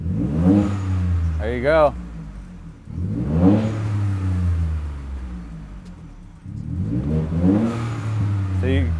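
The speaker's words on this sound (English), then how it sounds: "See if you can hear the blow-off valves." A car engine revs up several times, with a sharp hiss of a turbo blow-off valve after a rev; a voice speaks briefly.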